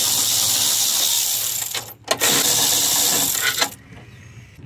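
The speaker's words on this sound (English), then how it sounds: "Now I'm gonna be removing the 10 millimeter bolt." A 10 millimeter bolt being removed from a GMC 4.2 engine during a water pump replacement gives a steady, loud, close whirring rattle, broken by two short pauses around the two-second mark and stopping near the end, with no talking.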